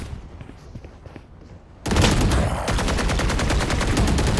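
Gunfire in the video game Valorant, heard during a VCT EMEA Kickoff match, erupts suddenly as a loud, rapid burst of automatic shots that keeps rattling steadily after a quieter opening.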